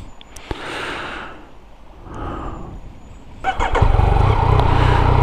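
A Yamaha XSR 900 fitted with LC mods, heard while riding: engine and wind noise swell and fade twice, then the engine rises sharply and holds at a loud, steady drone.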